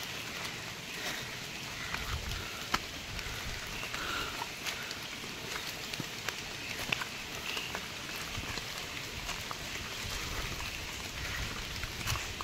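Steady rain falls outdoors in the wind, a continuous, even hiss of drops with no one speaking.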